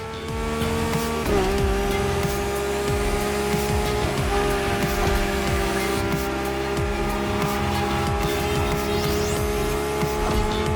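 Lamborghini race cars in The Crew Motorfest roar continuously with high, revving engines and shifting pitch, while tires squeal and screech throughout a dense, loud stretch of racing.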